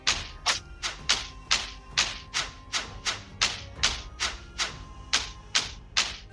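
Boss attacks in the Shattered Pixel Dungeon video game, heard as a regular series of sharp, punchy game sound effects repeating about twice per second, evenly spaced and clear, with no talking.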